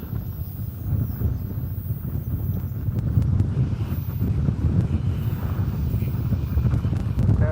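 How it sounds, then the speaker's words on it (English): Strong wind buffeting an outdoor microphone and a laptop at an airport plane-spotting spot, a steady low roaring rumble with gusty surges that stays loud throughout. "As I see my laptop's screen kind of flapping in the wind"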